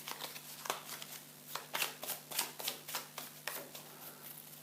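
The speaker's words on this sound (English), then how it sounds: "Shuffle them together with the other fate cards." Fate cards for the board game Dawn of the Zeds shuffled into the deck, a quiet series of crisp riffling snaps and flicks repeating in an uneven rhythm throughout, close up and without talk.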